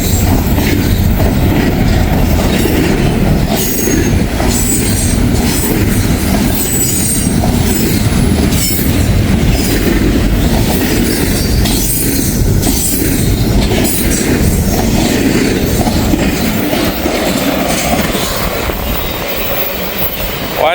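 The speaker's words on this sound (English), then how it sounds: "with a train ripping on by." A freight train rumbles loudly past at close range in Walton, Kentucky, a dense continuous roar of wheels and cars with clicking rail joints and squealing wheels throughout, no voices over it.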